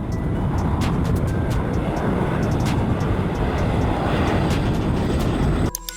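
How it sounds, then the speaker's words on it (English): A firebomber aircraft built to drop water or fire retardant on wildfires roars steadily and loudly throughout, a broad continuous engine rumble, cutting off abruptly at the end. "Firebomber aircraft. An aircraft designed to fight wildfires by dropping water or fire retardant on the flames from the air."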